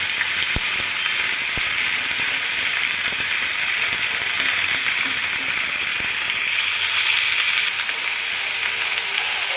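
Spring onions sauté in a pan for a chutney, giving a steady, close hiss of frying with a few soft stirring knocks and no talk.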